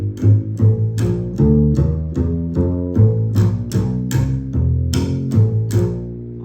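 A plucked bass plays a steady walking line of evenly spaced notes, stepping through a moving melody with bright attacks, alone and unaccompanied.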